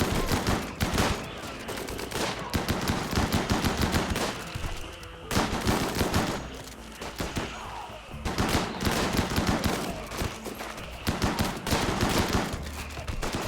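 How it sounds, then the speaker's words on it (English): Dense bursts of gunfire in a RimWorld battle, rapid overlapping shots crackling in waves with brief lulls, loud and sustained, game combat sounds with little or no talk. "Shots are just going everywhere, dude."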